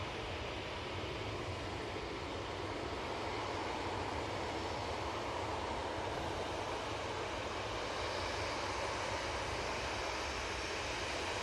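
An Aer Lingus Airbus A330 in from JFK lands at Manchester Airport, heard as a steady, broad jet roar that holds at an even level throughout, distant and without talk.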